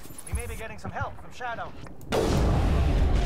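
Gunfire in the video game Mass Effect, a single loud burst that jumps in and holds near the end, right after a voice speaks over softer game sounds.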